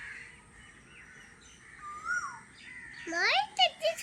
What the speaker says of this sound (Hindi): ये देख, इस तरह से आवाज आया कोयल की।